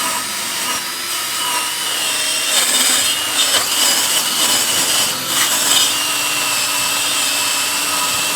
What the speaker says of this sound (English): I have a little drill, and it's just a wire brush end